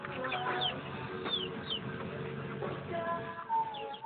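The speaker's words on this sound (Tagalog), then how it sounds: "pinapakain yung mga manok" A flock of chickens clucks and squawks while being fed, several birds calling at once at close range in short irregular bursts over a busy rustling background.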